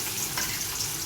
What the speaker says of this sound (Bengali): কড়াইতে সামান্য একটু তেল দিয়ে মাছগুলো ভেজে নেব।